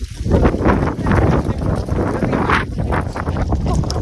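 Wind buffeting the microphone in loud, rumbling gusts, continuous for a few seconds outdoors.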